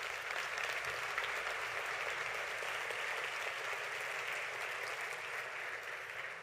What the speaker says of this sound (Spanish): Cuéntale un fuerte aplauso al Señor.